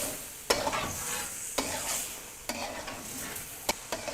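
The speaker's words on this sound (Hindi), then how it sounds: "अब हम इसको चिकन के साथ मिक्स करके भून लेंगे।" Chicken and tomatoes stir-fry in oil for a karahi, a constant sizzle broken by four sharp scrapes of a spoon against the pan, close and loud.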